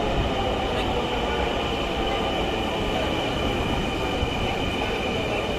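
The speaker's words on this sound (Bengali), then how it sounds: "ইতিমধ্যে আমাদের ট্রেনও চলে এসেছে উত্তর উত্তরগামী ট্রেন" A northbound Dhaka metro rail train pulls into a station with a loud, steady rumble of wheels and a faint high squeal, the noise filling the platform continuously with no one speaking.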